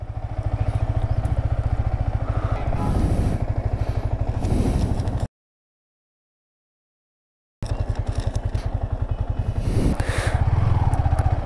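A Yamaha R15 V3 motorcycle engine, BS6 version, revs and accelerates with a loud, rapidly pulsing exhaust note up close. It cuts to silence for about two seconds, then roars back.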